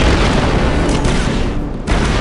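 A placed explosive charge detonating on a crate in the Republic Commando game, a loud, dense, continuous blast and roar filling the whole clip with only a brief dip near its end.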